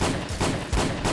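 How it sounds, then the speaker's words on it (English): Shotgun blasts in a VR shooter game, heard as repeated booming bursts of gunfire with broad noisy crackle, fairly loud and close, recurring several times over a bit more than a second with no talking. "Ooh, just got hit by a shotgun blast."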